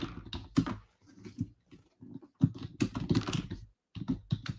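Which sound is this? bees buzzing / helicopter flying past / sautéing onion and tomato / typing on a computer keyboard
typing on a computer keyboard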